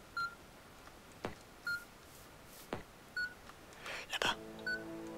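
In the video game XCUB, a radar gives short electronic beeps at a steady pace, about every second and a half. A brief burst of noise and a buzzing tone come in near the end.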